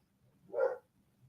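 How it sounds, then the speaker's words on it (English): A single dog bark sounds once indoors, short and moderately faint, with quiet background before and after. "And now my dog is barking."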